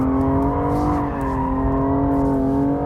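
A BMW 235i drifting at full throttle holds a loud, steady engine drone blended with a sustained tyre squeal, close and unbroken throughout.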